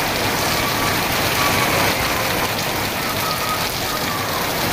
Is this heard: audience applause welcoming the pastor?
no